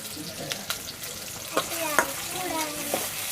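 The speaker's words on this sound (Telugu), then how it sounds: "ఇవైతే లైట్గా ఫ్రై చేసేస్తున్నాను ఉల్లిపాయలు" Onions lightly frying in a pan, a soft continuous sizzle punctuated by scattered clicks and scrapes of stirring, with faint voices in the background.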